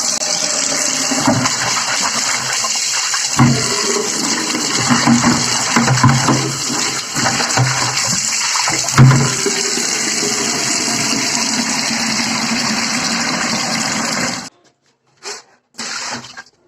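Water running hard from a household tap into a bucket, a steady rushing splash with small shifts in tone that continues at length and then stops abruptly, followed by a few brief bursts.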